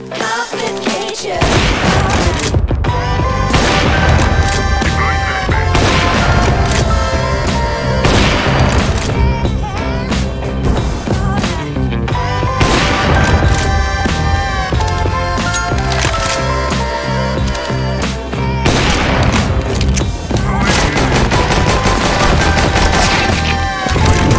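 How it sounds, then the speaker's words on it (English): Repeated shotgun blasts booming out in a free-to-play PC video game, loud and dense across the stretch, layered over continuous game music with a voice talking now and then. "I have a shotgun, so I'm just gonna use it"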